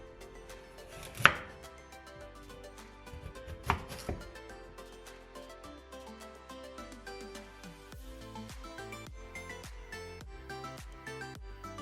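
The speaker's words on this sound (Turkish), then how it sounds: "Bir havuç kullanacağım. Bunu küp küp doğrayacağız" Steady rapid knife chopping of a carrot into cubes on a cutting board, crisp rhythmic taps continuing throughout, with a couple of louder knocks early on.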